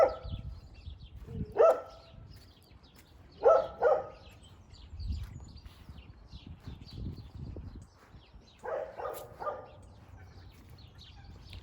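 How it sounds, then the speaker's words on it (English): A dog barking on a winter day beside the New River at Cheshunt, Hertfordshire, a few sharp barks in short bursts spaced several seconds apart, moderately near over low outdoor rumble. "I'll let him bark a bit"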